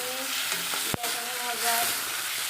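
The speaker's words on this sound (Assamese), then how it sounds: "বিলাহীটাই তেলটো ওলাই নহালৈকে মই ভাজি থাকোঁ" Tomato paste with vegetables and potato frying in oil in a pan, a steady close sizzle throughout with a single sharp clack of a utensil near the start.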